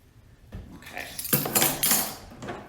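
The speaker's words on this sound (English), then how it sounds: "So after you add 2 cups of salt, 1 cup of flour, and a teaspoon of alum, you just stir it together." A spoon stirs salt, flour and alum in a bowl, making a short run of close scraping and clinking strokes that rise in intensity, with no talk.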